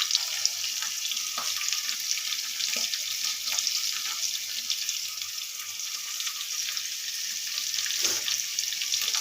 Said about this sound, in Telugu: ఆయిల్లో కొద్దిగా ఫ్రై చేయాలి రొయ్యలు.